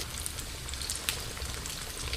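Japanese korokke potato croquettes fry in hot oil, a faint, steady crackling sizzle with scattered small pops and no voices.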